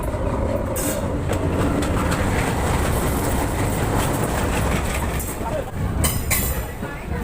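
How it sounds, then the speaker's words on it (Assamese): The Nagaland Express rolls into Sivasagar station with a loud, steady rumble and rattle of railcars that fills the whole stretch, easing slightly near the end, with a few sharp high hisses and squeals over the top. "চ' ফাইনেলি আহি গৈছে আমাৰ ট্ৰেইন"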